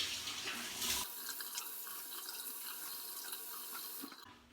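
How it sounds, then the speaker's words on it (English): Running water from a tap rinses a Dovo shavette-style straight razor, a steady close splashing hiss with the flow briefly changing as the blade passes through before it cuts off. "I'll do a little rinse."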